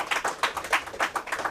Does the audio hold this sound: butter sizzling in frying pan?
no